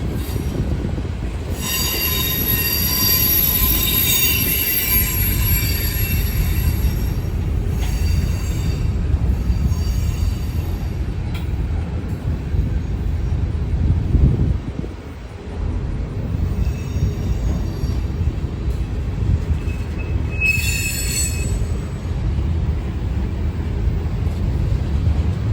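A BNSF freight train of closed steel coil cars rolls steadily past nearby, with a continuous loud rumble, high-pitched wheel squeals coming and going, and occasional rail clicks.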